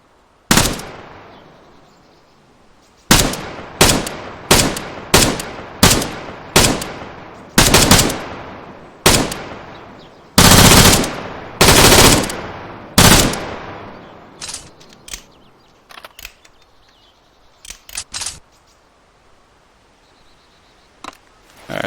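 Machine gun fire in the World War II mod IFA3WarMod, loud close bursts and single shots in an uneven rhythm, separated by short pauses and thinning into sparser shots toward the end.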